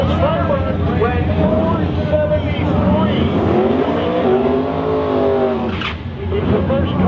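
A twin turbo Firebird drag car makes a run on a newly surfaced drag strip, its engine roaring loud and steady throughout with shifting pitch sweeps, while an announcer talks over it.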